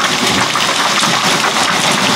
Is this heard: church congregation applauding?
no